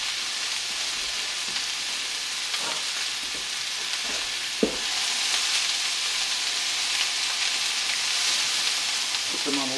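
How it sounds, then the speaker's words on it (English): Breakfast food sizzles and fries steadily in a pan, a continuous loud crackle with a few soft scraping knocks as it is stirred around. "Going to stir that around a little bit."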